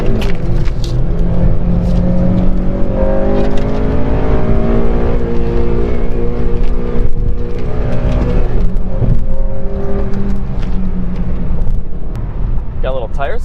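Honda Civic Si with its 2-liter engine revving and accelerating hard, a loud rising engine note with gear-like pitch sweeps, briefly spinning its tires, while a person talks over it throughout.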